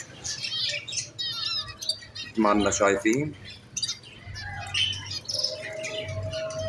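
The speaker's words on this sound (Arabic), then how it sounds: "وهدول عصافير الجنة اللي نحن بنعرفهم اللي هو طائر الزيبرا" Zebra finches in a cage chirp and squawk in quick, bright bursts, close and lively, while someone talks briefly in the middle.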